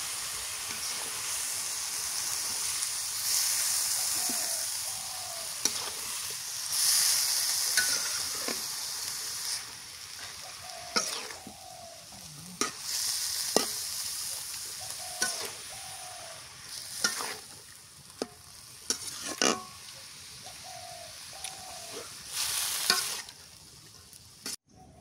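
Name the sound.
stirring pumpkin and small river shrimp curry in frying pan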